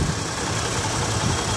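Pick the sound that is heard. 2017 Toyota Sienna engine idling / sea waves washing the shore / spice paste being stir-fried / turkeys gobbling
2017 Toyota Sienna engine idling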